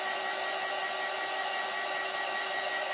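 A hair dryer blows a constant, even whir close by for three seconds, drying fresh paint on a bunny planter, with no voices over it.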